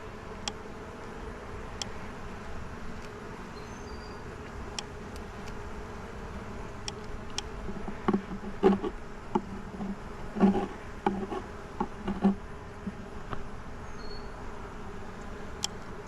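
Soft, steady buzzing of bees around a hive during an inspection, with scattered ticks and taps, a low hum that rises and falls without voices.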